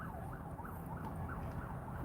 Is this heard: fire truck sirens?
yes